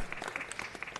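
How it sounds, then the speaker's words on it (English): Faint applause, a short burst of scattered clapping heard from a distance, with no voices over it. "give Ray a round of applause, Ray Brooks."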